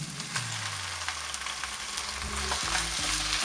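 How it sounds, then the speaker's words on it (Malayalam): Cleaned squid frying in oil with tomato paste for a coconut squid roast, a steady soft sizzle with occasional low scraping and stirring knocks building toward the end, no voices. "ഇനി നമുക്ക് ആ സ്ക്വിഡ് വൃത്തിയാക്കി വെച്ചത് കൂടെ ചേർത്ത് കൊടുക്കാം ഇതിനകത്തോട്ട്."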